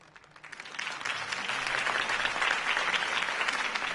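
Crowd applause in the video game Batman: The Telltale Series swells in after a quiet start and continues steadily, dense clapping from many hands with no speech.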